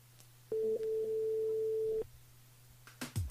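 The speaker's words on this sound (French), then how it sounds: "on appelle Lucas ce matin." Telephone line tone heard while a radio morning show dials a listener: one steady tone lasting about a second and a half over a low line hum, followed by faint clicks as the call connects.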